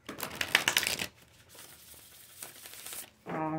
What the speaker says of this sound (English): Get one more good shuffle here.